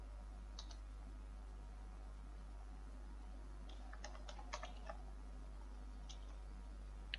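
Faint, sparse clicks of a computer keyboard come in small bursts of keystrokes during a login, quiet and close over a steady low electrical hum, with no voices.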